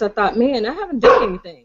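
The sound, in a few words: dog barking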